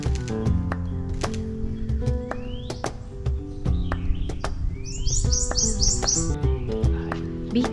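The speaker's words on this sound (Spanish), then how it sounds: "me acabo de encontrar un pajarito amarillito que nunca había visto antes." A small yellow bird in a Louisiana swamp, in the Jean Lafitte wetlands, gives a run of quick, bright chirps that grows into a rapid series, close by over low background noise.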